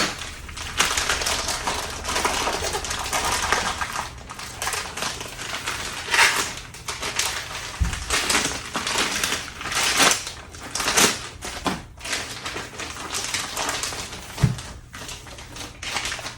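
A cardboard shipping box for a Suncoast converter is cut and torn open, with irregular crunching, scraping and rustling up close and no talk.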